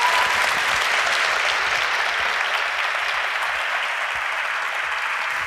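An audience after a talk breaks into steady, dense applause, a loud, even wash of many hands clapping that holds throughout without letup.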